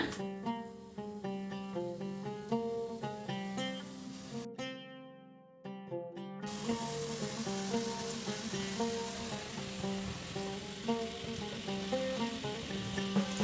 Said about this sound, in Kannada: ಎಣ್ಣೆ ಕಾದಿದೆ. ಈಗ ಇದನ್ನ ಒಂದೊಂದಾಗಿ ಎಣ್ಣೆಲಿ ಬಿಟ್ಕೊಳ್ಳೋಣ.